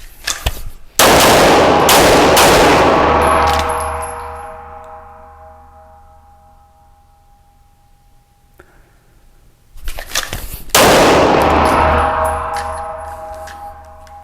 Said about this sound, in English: I don't normally shoot polymer guns this way.